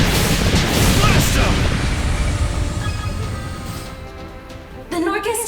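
Ship cannons fire during a naval battle in the video game Ys X: Nordics: heavy booming blasts crowd the opening seconds, then fade into a rumbling tail under game music and brief voices.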